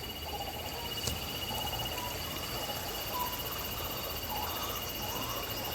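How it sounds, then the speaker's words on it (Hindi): Faint, scattered bird chirps over steady outdoor background noise in a wooded area near the Ganga at Haridwar, with a constant insect-like hiss. "और जंगल से पंछी की आवाज़ आ रही है।"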